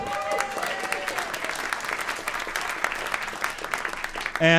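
Audience at a live radio drama staging of A Christmas Carol applauding steadily, with some voices underneath and a louder sound cutting in at the very end.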